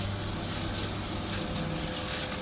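A car wheel is rinsed with a spray of water: a steady, broad hiss holds at an even level throughout, near and unbroken, with a faint low hum underneath and no voices.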